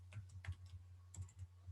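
Typing on a computer keyboard, a quiet, uneven run of close key clicks at a brisk pace with short pauses and a steady low hum underneath.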